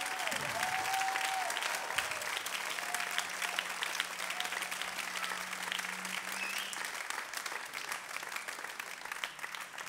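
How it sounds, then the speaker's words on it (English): Audience applause at a live Celtic folk concert in Noriac, a dense, steady wash of clapping from a crowd sustained throughout without letting up. "Thérèse, vous pouvez applaudir."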